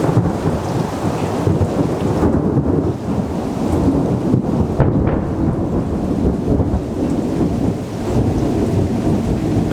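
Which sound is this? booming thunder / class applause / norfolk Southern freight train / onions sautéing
booming thunder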